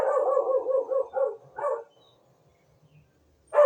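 Dogs bark in a rapid series of loud, close barks for about two seconds, then a couple of separate barks, a quiet pause, and one last bark at the end.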